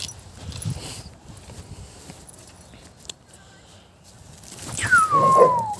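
A dog whimpers and whines in short bursts over a stick, rising to a high, drawn-out whine close by near the end, with some quiet rustling.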